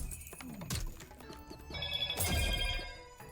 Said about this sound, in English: My phone needs to not go off while I'm recording.